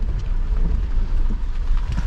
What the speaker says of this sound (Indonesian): Kita buka dulu nih kacanya, karena gravelnya suaranya enak nih.